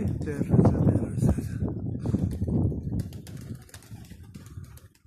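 Released pigeons take off in strong gusty wind, a burst of flapping wings and fluttering close by that thins out as the flock climbs away, with wind buffeting throughout.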